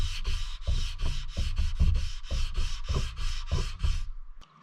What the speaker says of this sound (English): Then I like to hand sand with the same grit sandpaper just in case there are any swirl marks left